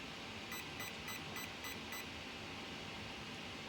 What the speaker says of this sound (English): Now I always recount just to make sure I have the right number of beeps.